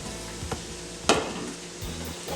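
Sliced peppers, red onion and potato sizzle in a pot for a one-pot chicken dinner, a steady close frying hiss broken by a few sharp clanks of a utensil against the pot.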